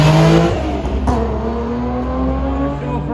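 A modified Nissan 350Z at a Motofest car show revs loudly nearby, its engine note rising and settling in a steady sustained growl with no talking.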